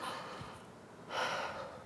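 A person takes a quick breath in through the mouth during a guided breathing exercise, one soft sharp inhalation heard close and quiet after a brief pause.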